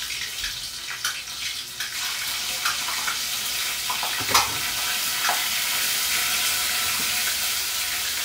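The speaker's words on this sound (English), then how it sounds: "I will cut a piece of the pepper here, and I will burn it in the oil as well." Piece of hot pepper frying in oil while cooking Jamaican curry wings: a steady, close, hissing sizzle with a few small pops and stirring clicks.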